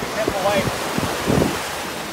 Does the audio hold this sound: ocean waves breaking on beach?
yes